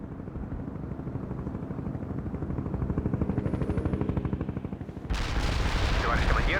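Incoming mortar shells and gunfire in the World in Conflict video game, with dense, continuous rattling bursts and rumbling explosions, loud and close, swelling into a heavier blast toward the end.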